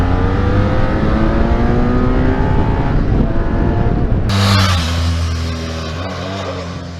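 A 2017 BMW F800GS Adventure motorcycle on road tyres rides off-road with ABS switched off, its engine droning loudly and steadily, then shifting pitch as revs drop and the tone changes partway through.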